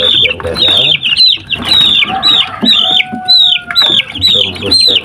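Three-week-old Joper chicks cheep and cluck nearby in a steady stream of high, overlapping peeps, with brief flutters and faint background noise.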